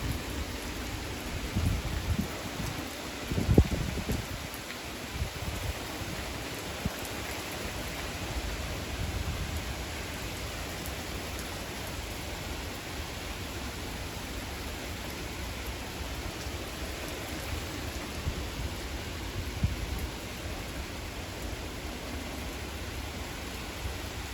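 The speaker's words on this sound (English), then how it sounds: "Alright, yeah, now the winds are starting to blow" Strong wind gusts blowing ahead of a shelf cloud during a storm warning, a steady broadband roar that stays loud throughout with a few sharper gusts and buffets.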